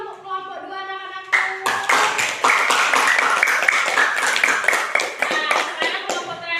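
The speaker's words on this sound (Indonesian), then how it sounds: "beri tepuk tangan dong untuk kelompok 2 anak-anakku" Schoolchildren in a classroom clap for a student group after a presentation, sharp close handclaps breaking out suddenly after a brief sung or spoken tone, then a brisk, uneven burst that continues to the end.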